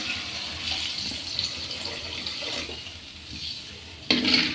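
Running water fills a pot meant for boiling eggs in tamarind curry, a soft steady gush with a brief louder splash near the end, fairly quiet and without talk.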